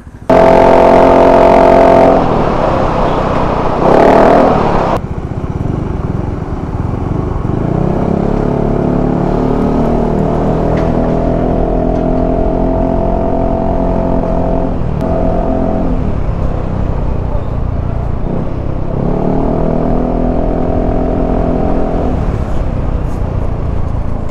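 Motorcycle fitted with a laser-engraved stainless steel Orion JMac muffler and elbow pipe, heard close and loud as the engine idles and rises through several rev bursts, with no talking.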